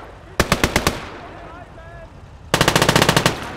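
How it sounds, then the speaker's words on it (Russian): Two loud, close bursts of machine gun fire in the World War II game Call to Arms: Gates of Hell, Ostfront, the first a short string of about six rapid shots, then a quiet gap and a longer rattling burst of around a dozen. "Пулемет!"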